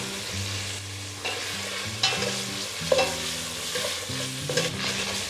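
Whole cinnamon stick, black peppercorns and green cardamom pods being stirred and toasted in a hot pan, with a steady low sizzle and repeated scraping strokes from a spoon throughout, close and moderately loud with no voices.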